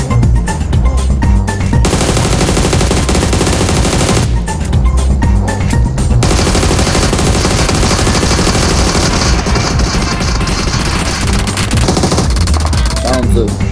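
Loud, dense bursts of rapid video-game gunfire rattle almost continuously, with brief lulls and machine-gun-like volleys layered over one another.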